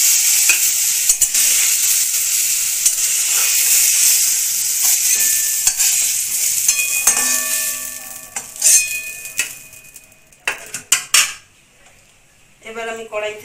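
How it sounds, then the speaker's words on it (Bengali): Ridge gourd frying lightly in a kadai with steady sizzle that fades midway, followed by clinks of a spatula and utensils as the pieces are lifted onto a plate. "হালকা করে ঝিঙেটা ভেজে নিয়েছি।"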